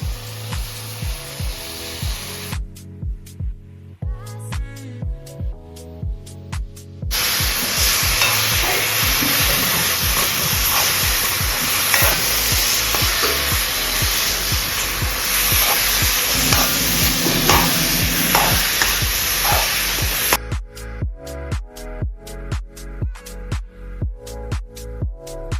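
Onion paste being stirred into frying masala in a pan, with a steady sizzle and repeated scraping strokes, louder in the middle stretch, no talking.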